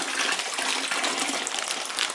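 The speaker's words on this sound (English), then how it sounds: "So we put 2 more liters of warm water into the bag to get any of the residue." Warm water poured into a wine-kit container, a steady close gushing splash that runs unbroken for about two seconds with no talking.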